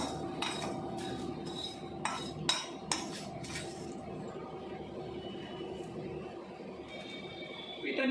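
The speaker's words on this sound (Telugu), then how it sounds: "వీటిని బాగా అంటే మాడేలా కాదు, కొంచెం ఫ్రై చేసుకుందాం" Whole spices fry in a pan for mutton dum biryani with a soft, steady sizzle, while a metal spoon clinks against the pan several times early on, close and fairly quiet.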